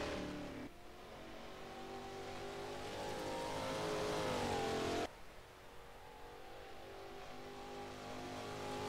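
A race car in the Automobilista sim revs hard and climbs in fourth gear toward the limiter, its engine note rising steadily and loud, then cutting abruptly as the driver lifts, before building again at a lower pitch.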